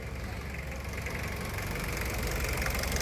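A Toyota Corolla's 2C diesel engine idles steadily nearby, a low rumbling drone with a faint knocking texture that holds level throughout.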